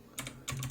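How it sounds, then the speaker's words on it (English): Typing on a gaming keyboard, with two short bursts of clattering keystrokes, close and moderately loud against a quiet background. "This is a gaming keyboard."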